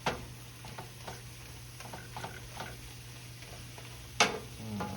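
A flour roux stirred in an Instant Pot gives a soft, faint sizzle under a scatter of light scraping strokes, with one sharper clack near the end.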